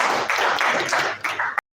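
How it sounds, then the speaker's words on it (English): A conference audience at an electrical engineering event gives a brief burst of dense, steady clapping that fills the room, then cuts off abruptly. "Round of applause for him, please."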